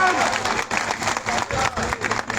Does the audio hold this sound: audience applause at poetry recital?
yes